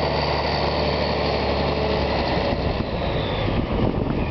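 The engine of a Deuce and a Half military truck drones loudly and steadily as it climbs a small hill in first gear, a continuous rumbling roar heard up close with no talking.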